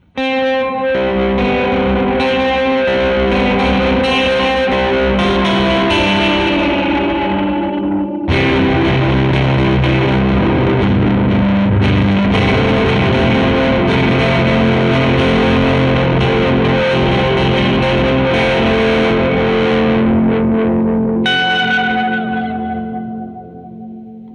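Electric guitar notes and chords through a Catalinbread Soft Focus reverb pedal, drenched in long reverb, with tails ringing out and washing into each other, a brief pause midway, no talking.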